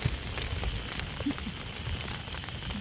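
Steady patter of monsoon rain falling on a surface near a flooding river, a soft continuous hiss with scattered droplet taps, moderately quiet and close.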